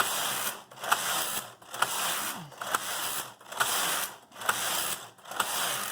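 Brother KH970 knitting machine carriage sliding back and forth knitting slip stitch, a rhythmic mechanical whirring rasp in regular passes about once per second, each ending with a clack, close and steady.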